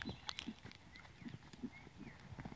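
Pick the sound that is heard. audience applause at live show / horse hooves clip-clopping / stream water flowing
horse hooves clip-clopping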